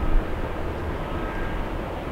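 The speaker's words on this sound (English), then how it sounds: "Flight to Phoenix. Taking off." An airliner takes off on a flight to Phoenix, a continuous low, rumbling engine roar heard from a distance, steady and fairly loud throughout.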